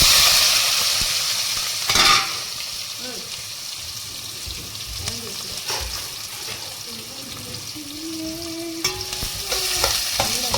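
Prawns cook in a tempered gravy in a pan on a stove with a soft sizzle and occasional stirring scrapes, while voices speak intermittently over the cooking.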